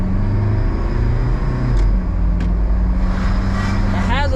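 A Mitsubishi Delica van's engine rumbles and pulls as it accelerates on the road, a loud, low droning growl with road noise throughout.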